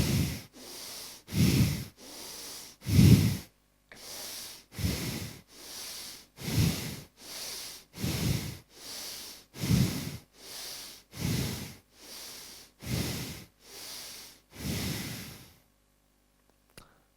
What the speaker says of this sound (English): This was your breathing exercise, Bhastrika pranayam.